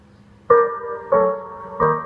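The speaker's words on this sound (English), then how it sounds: "That's a bit of reverb." Three short reggae skank chords stab in turn, each ringing out through a reverb effect into a lingering echoing tail before the next one lands.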